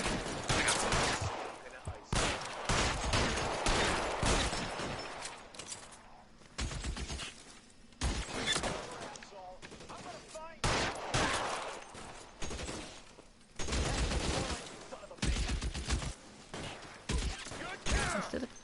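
Dense video game gunfire cracks in repeated bursts of shots and fusillades, loud and close throughout, with brief gaps and players talking over the firing.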